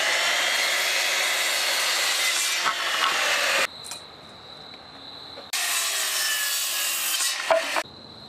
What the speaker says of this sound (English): it's very important to set the blade depth on your circular saw